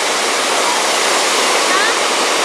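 Cold flowing water rushes in a loud, dense, continuous roar, close and steady throughout with no break.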